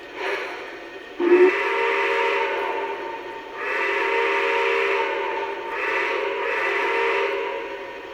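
A model train steam whistle, on a Lionel brass Challenger locomotive, blows in several long, breathy, chord-like blasts with brief dips between them, fairly clear and moderately loud.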